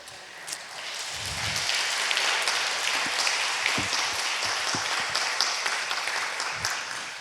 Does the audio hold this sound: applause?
yes